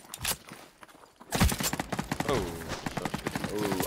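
Gunfire in the shooter game The Cycle: Frontier rattles in quick bursts, fairly loud and close, with a voice talking over the shots.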